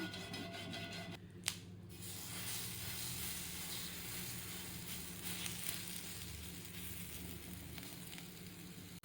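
Vada batter sizzles steadily in oil on a dosa griddle, a soft continuous crackling fry with a brief sharp tap near the start.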